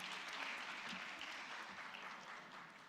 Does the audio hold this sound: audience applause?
yes